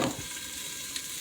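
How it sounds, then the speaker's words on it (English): Shrimp sizzling as it fries in a pan, a steady, soft hiss of hot oil heard close up for a brief moment with no talk. "And you hear it sizzling, so that means I gotta stir it."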